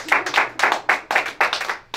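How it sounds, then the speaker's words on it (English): Small group clapping at a Las Vegas wedding chapel, a few people applauding in quick uneven bursts, close and moderately loud. "a big round of applause"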